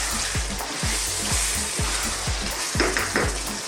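Mutton karahi sizzles in a pan, a close, constant frying hiss with a series of soft, regular thumps as the meat is moved and stirred.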